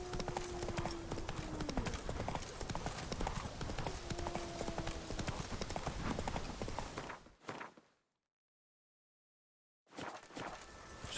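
Horse hooves from riding in The Witcher 3 video game: a steady, close clip-clop gait runs for about seven seconds, then cuts to near silence before the hoofbeats resume briefly at the end.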